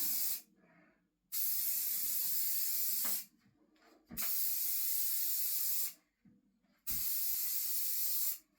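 Rust-Oleum 2 in 1 paint and primer hisses from a spray can in four loud, close bursts of a few seconds each, with quiet gaps and faint clicks between them.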